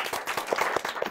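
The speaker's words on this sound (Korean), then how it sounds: "수고 많으신 MC분들한테 박수 부탁드리겠습니다." A short burst of clapping from a small audience at the end of a Q&A session, steady and moderately loud.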